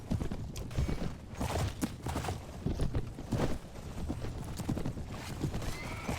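Horse hooves clip-clop steadily in Mount & Blade Warband with the Floris mod, a wounded horse struck by javelins, with loud neighs and whinnies rising over the busy, dense battle noise throughout.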